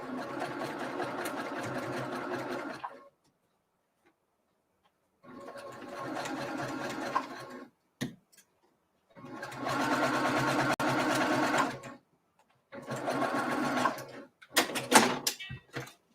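Sewing machine stitching quilt seams in several bursts of steady mechanical whirring, each lasting a few seconds, separated by silences and short clicks, close and clear with no talking.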